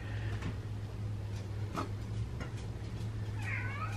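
A pet cat meows a few times near a kitchen where cooled hamburgers are being handed out as a snack, with a steady low hum underneath and faint ticking.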